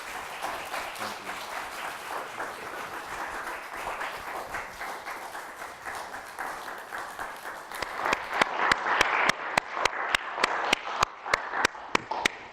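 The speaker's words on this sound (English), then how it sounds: "Big applause for both of you." An audience applauds at the end of a piano master class at the 2015 Edward Auer Piano Workshop: steady, moderately distant clapping that swells toward the end, with sharper individual claps standing out.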